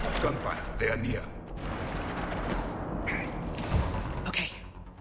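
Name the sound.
gunfire in Mass Effect 3 video game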